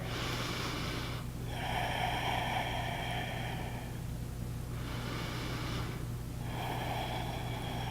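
Slow, deep breathing during a gentle beginner yoga pose, with two long, loud, airy inhale-exhale cycles heard close up over a steady low background hum, and no talking.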